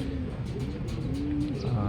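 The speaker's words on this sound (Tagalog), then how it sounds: "meron tayong dalawang ibon dito" Racing pigeons at a club training release in Pagsanjan, Laguna coo softly in a short low burst, close by, with background murmur and light ambient noise.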